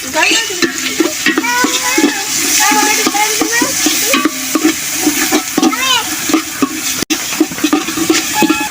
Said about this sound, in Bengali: লবণ দিয়ে দিলাম একটু নাড়াচাড়া নিয়ে এটা চালিয়ে দেবো